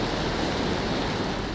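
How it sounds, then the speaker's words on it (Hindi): Fast, heavy flood water rushes past in a swollen river, a continuous loud broadband roar with no pauses and no voices. "पानी का बहाव इस कदर तेज है कि अगले पल कुछ भी हो सकता है"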